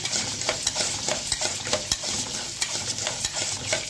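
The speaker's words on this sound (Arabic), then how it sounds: "لازم نقلب كل شويه عشان ما يحرقش منه" Breaded chicken panne sizzling in hot oil in a pan, with steady crackling frying noise and intermittent scraping clicks as the pieces are stirred and turned, close and fairly loud throughout.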